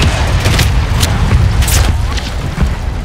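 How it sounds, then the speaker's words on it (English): A mortar strike explodes in the Call of Duty Modern Warfare 3 campaign with a heavy, rumbling boom, followed by dense battlefield noise and debris that carry on for several seconds. "Requesting mortar strike. Solid copy, mortar strike inbound."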